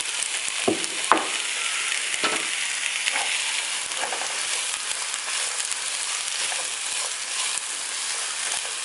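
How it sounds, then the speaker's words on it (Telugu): Chopped onion frying in hot oil for a ridge gourd curry with milk, a loud continuous sizzle and crackle, with a few spoon scrapes early on. "ఆయిల్ వేడెక్కింది, ఉల్లిపాయ తరిగి వేస్తున్నాను."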